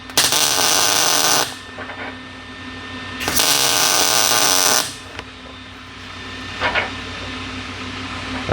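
A custom Corvair oil plug is welded in a shop, with two long, loud, steady bursts of harsh crackling hiss broken by pauses, then a short weaker burst near the end.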